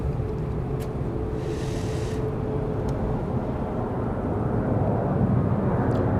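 Delta airliner arriving from Atlanta at Dallas Love Field, a steady broad engine roar heard from a spotting position with constant low rumble throughout and no voices.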